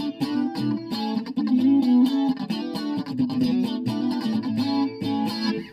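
An electric guitar with a rear pickup plays a steady run of notes through effects that add chorus-like shimmer and mild grit, sounding clean and glassy, loud and continuous, with no voices.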